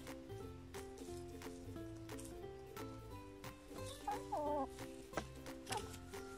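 Chickens cluck and mutter steadily in a vegetable garden in Belgium, their soft calls mixed with a dense, continuous musical-sounding backdrop throughout, with a few slightly louder clucks near the end.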